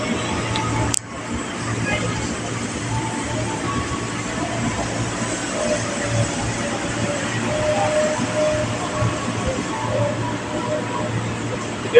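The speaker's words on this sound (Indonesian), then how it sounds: "Jalur 3 dari arah barat melintas langsung kereta api dinasan." Service train passing straight through a large station on track 3 without stopping, a steady low rumble and rolling noise with faint station hum, a sharp click near the start.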